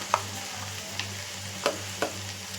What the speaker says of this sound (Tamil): ஒரு 1/4 மூடி தேங்காய், அதையும் நம்ம அதோட போட்டு வதக்கிப்போம்.